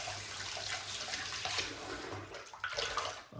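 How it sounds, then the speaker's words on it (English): Water splashes and trickles close up as it is added to a shaving brush and soap, a soft, uneven running and dabbing wash with brief wet patting sounds. "put some water into the brush and start painting a little bit of water in."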